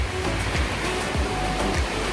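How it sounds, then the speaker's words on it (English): Steady, dense roar of heavy rain pouring down, a constant wash of noise without pauses. "It's absolutely pouring."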